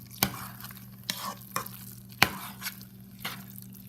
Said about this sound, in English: stir it constantly so it does not stick to the bottom of the pan